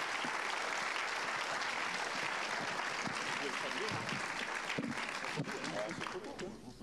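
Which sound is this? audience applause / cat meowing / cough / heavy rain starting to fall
audience applause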